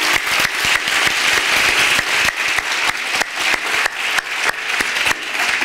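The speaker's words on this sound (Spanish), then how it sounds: "simplemente aplaudirles muy fuerte" At a startup event, an audience gives a strong, steady round of applause, many hands clapping in a dense, continuous wash with no talking over it.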